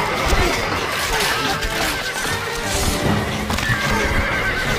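Horses in the strategy game Stronghold Crusader neigh and whinny amid steady hoofbeats, a continuous busy mix with faint game voices beneath.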